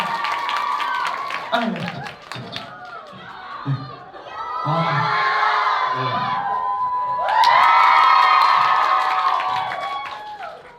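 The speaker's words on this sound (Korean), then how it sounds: "여러분 다시 한번 큰 박수로 맞으시면 고맙겠습니다." A crowd of fans at a solo summer concert clapping, cheering and shouting, swelling loudly in waves; a host speaks briefly over the noise near the start.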